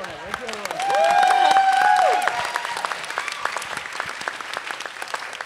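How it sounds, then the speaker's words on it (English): Audience applause for the volunteers at a closing plenary, with clapping that starts under a short whistle or cheer, swells, then continues as scattered claps. "Y'all are not following the directions about holding your applause."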